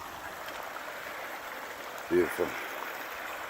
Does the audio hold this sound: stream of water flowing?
yes